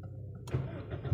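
A 2005 Toyota Vios manual sedan engine starts up, a brief crank catching into a low idle rumble that swells louder at the end, heard close with no talking.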